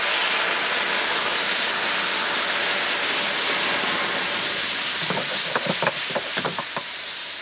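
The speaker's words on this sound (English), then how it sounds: "We're going to add some wine." White wine poured into a hot pan of spice mix for risotto: a loud, steady hiss of sizzling steam, joined near the end by a cluster of sharp crackles and pops.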